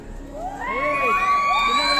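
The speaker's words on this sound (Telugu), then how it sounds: "ఎవరు వేస్తారు ఇప్పుడు కేకలు?" Children shout and cheer together at a church Sunday School Day celebration, a loud, sustained crowd of rising and falling young voices whooping close by.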